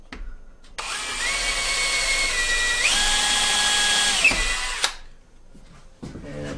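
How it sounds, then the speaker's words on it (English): A power drill pre-drills holes while a CNC machine table is being assembled, one close, loud whirring burst lasting about four seconds with its pitch shifting as the bit bites, then a pause and a brief second start. "Pre-drill this."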